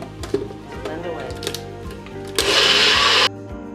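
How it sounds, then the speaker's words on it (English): A kitchen blender whirs loudly for about a second while blending a protein smoothie, after some clattering and knocks as it is handled and loaded, with talk partly heard around it. "Alright, so let's pop that into our blender. Blend away."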